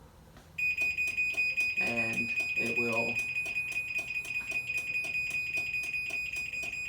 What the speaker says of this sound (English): do this little alarm and closes the door